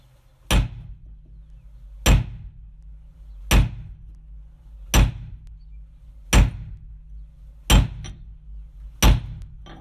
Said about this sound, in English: So I got the piece of cold roll and started smacking on here, and that's when it started to come.